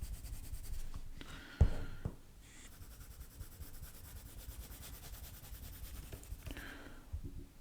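Colored pencil is pressed firmly and rubbed across paper in close, quiet scratchy strokes. The strokes come in short bursts separated by brief pauses.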